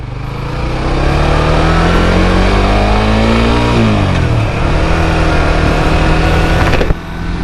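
A Suzuki GSX R150 2017 motorcycle pulls away, its engine loud and close as it revs up through a rising pitch, dips briefly at a shift, then carries on at a steady drone with a small knock near the end.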